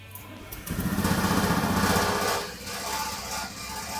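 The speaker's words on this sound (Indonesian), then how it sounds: "Selanjutnya kita akan coba hidupkan sepeda motor ini" A motorcycle engine fires up and settles into a steady idle of about 1500 rpm during a diagnostic-tool check, a fast even putter close by with a faint hum beneath.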